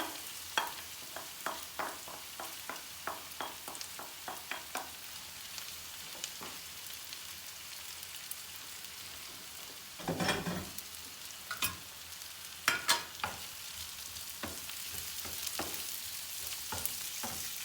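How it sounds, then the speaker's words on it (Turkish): Close, steady sizzle of onions frying lightly in a pan, with a run of sharp stirring clicks and scrapes, plus a louder clatter partway through. "şöyle soğanımızı hafif kızartalım arkadaşlar"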